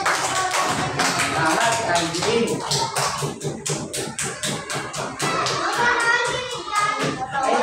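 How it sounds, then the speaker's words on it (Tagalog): A group of children applauding in a classroom, a burst of brisk, uneven clapping that follows a short spoken remark and carries on under further talk. "Bigyan niya kasi Angeline ng palakpak."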